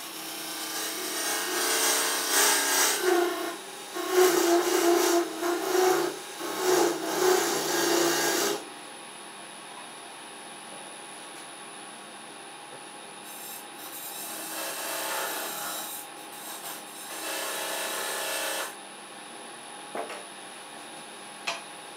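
Carbide cutter with a square tip scraping milk pear wood on a lathe while turning a candlestick, a rough rasping burst for about eight seconds, then a quieter steady hum with lighter scraping passes.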